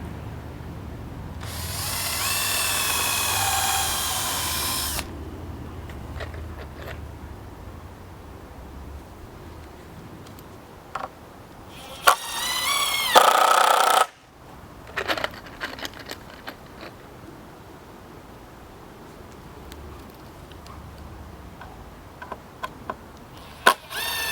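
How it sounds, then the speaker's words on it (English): A power drill whirs in a few bursts, one long run near the start and shorter spurts later, with tool handling and clatter in between. "Just drill down in the center."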